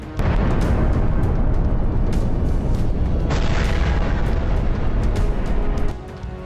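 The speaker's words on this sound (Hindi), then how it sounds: "जबरदस्त धमाके का ये वीडियो लुहांस्क का है।" A GLSDB guided bomb strike in Luhansk sets off a loud, sustained blast: a dense roaring rumble with scattered sharp cracks that holds for about six seconds and then drops off abruptly.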